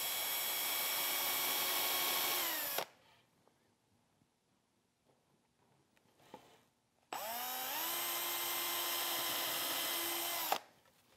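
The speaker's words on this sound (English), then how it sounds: "Then I'll just drill pilot holes in the end of the stretcher." A power drill bores pilot holes in the end of a wooden stretcher for a small Shaker bench, two loud sustained whines at close range, each winding down as it stops, with a quiet pause of light handling between them.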